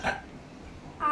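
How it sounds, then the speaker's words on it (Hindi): A single short hiccup at the start, followed by near silence, then a brief vocal sound at the end. "आ गया हिचकी"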